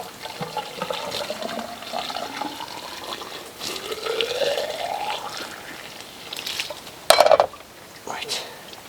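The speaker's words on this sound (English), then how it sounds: "let's pour this hot water in" Hot water is poured into a pipe on an off-grid micro hydro Turgo turbine setup, trickling and gurgling quietly with a brief louder splash near the end. People talk over it.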